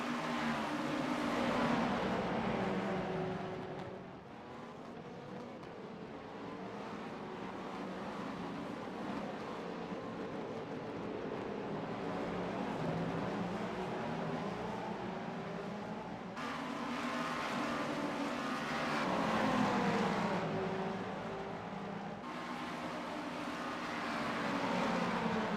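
Several GTP prototype race cars circulating in an iRacing sim race at Motegi or the Indianapolis road course, a steady layered engine roar that dips briefly then swells again as cars pass, continuous throughout without speech.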